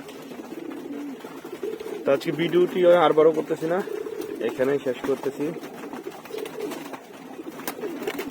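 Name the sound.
pet pigeons cooing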